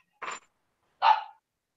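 A dog gives two short, sharp barks about a second apart, clear and moderately loud against silence.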